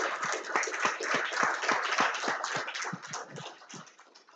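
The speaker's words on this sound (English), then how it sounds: "let's give Patrick a great big round of applause" An audience at a talk applauds the speaker Patrick, with a crowd's dense clapping that starts lively and gradually thins and fades toward the end.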